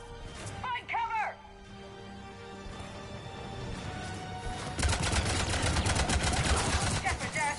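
Enemy gunfire in Mass Effect 3 erupts halfway through as a dense, rapid stream of loud shots, following shouted voices and a quieter stretch of ambient combat noise.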